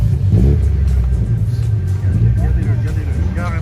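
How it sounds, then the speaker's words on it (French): A V6 engine revs at a Japanese JDM car meet, a loud low rumble rising and falling in short bursts close by, with crowd chatter mixed underneath. "On entend bien le V6 chanter."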